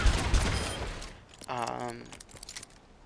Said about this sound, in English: semi-auto shot, so if you hold down the trigger, it won't fire continuously